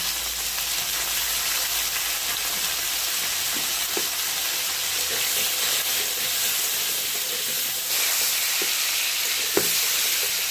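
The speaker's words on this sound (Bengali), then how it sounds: "একটু ভাজা হোক" Salt and turmeric frying in a hot pan with pointed gourd and potato, a low steady sizzle and hiss close by, with a few faint clinks and stirs and no voices.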